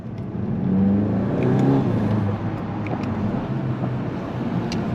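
A Golf 8 GTI Clubsport, a 300-horsepower front-wheel-drive hatchback, revs steadily with a deep droning exhaust, building and holding a loud rumble with faint crackling pops, and no voices.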